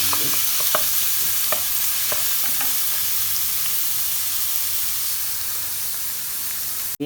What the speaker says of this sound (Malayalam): നമുക്ക് ഉള്ളി ഒന്ന് നന്നായിട്ട് മിക്സ് ചെയ്യാം